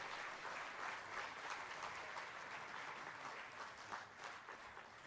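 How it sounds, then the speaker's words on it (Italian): Conference audience applauding steadily for about five seconds, a dense, even patter of many hands heard at some distance, without speech. "Vorrei insieme con voi ringraziare vivamente Fra Sabino con un applauso."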